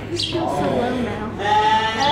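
Sheep bleating inside a barn, two or three wavering calls rising over a busy background as people chat close by.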